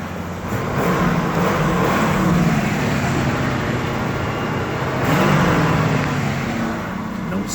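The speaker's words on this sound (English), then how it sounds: "Engine sounds really good." A 1976 Cadillac Eldorado convertible engine runs loudly and steadily up close, swelling twice in brief revs, with no voices.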